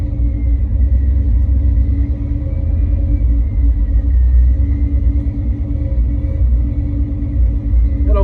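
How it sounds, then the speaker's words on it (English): An old truck engine with a Flowmaster exhaust idles throughout after a cold start, a deep, steady rumble, low and throaty with a constant droning tone, close by and with no voices. "That old Flowmaster on this truck sound pretty good."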